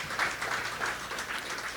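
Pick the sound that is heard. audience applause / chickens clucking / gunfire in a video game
audience applause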